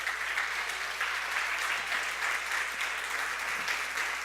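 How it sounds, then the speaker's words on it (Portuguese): Congregation applauding in church after being seated, a dense, steady patter of many hands clapping at moderate loudness, continuous and unbroken without voices. "aplaude e glorifique o nome do Senhor"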